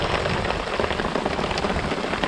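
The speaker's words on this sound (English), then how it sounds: "It's raining like crazy. The tent's getting pounded." Heavy rain drums hard and steadily on a tent during a week-long survival camp, a dense, loud, unbroken patter with no voices.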